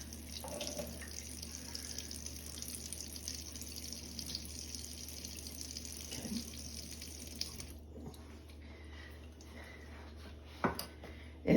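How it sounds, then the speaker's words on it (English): Water runs steadily from a tap into a measuring cup in a home kitchen while a white cake is being made, a soft continuous pour that stops near the end, followed by a faint clink. "So I put 1/3 cup of water"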